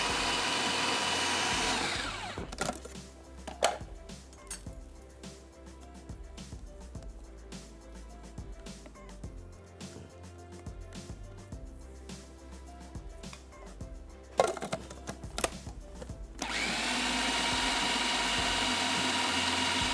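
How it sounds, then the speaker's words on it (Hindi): A kitchen blender grinds onion and spinach into a paste, a loud continuous whirring grind with a few sharp pulses, stopping briefly and restarting, then running steadily again near the end. "और अब इसको खूब अच्छी तरीके से हमने पीस लेना है, ताकि प्याज, पालक, तमाम जो जायका है वो अच्छी तरीके से एकजान हो जाए।"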